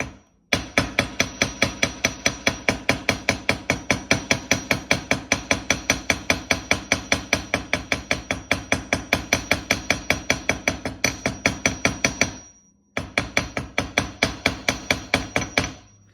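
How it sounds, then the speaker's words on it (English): Fast, regular hammer blows on a jewelry pendant's metal on a bench block, ringing and close, continuing for many seconds with a brief pause before resuming. "And now we will need our block and hammer."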